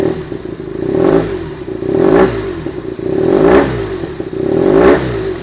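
A BMW two-cylinder boxer motorcycle engine fitted with an aftermarket exhaust revs repeatedly, with four loud swelling throttle blips over a rough, throbbing idle and no talking.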